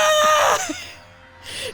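Game character screaming in Danganronpa, a loud, strained high-pitched wail that bends and falls away, followed by a shorter cry, close and clear with no talk over it.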